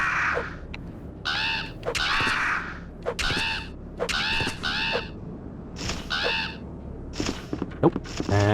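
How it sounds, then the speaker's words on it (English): Crows in the Resident Evil 2 classic game cawing harshly in quick repeated bursts, several overlapping calls close and loud, mixed with occasional thuds, with no talking. "clear out some crows"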